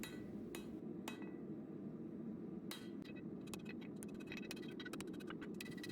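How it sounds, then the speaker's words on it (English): A hammer rings against a hot steel knife blade, a leaf-spring steel hunting knife held on an anvil edge, striking in sharp, scattered blows that quicken toward the end, heard fairly faint and alone. "After finishing the tip of the knife, I used the edge of the anvil to isolate the blade."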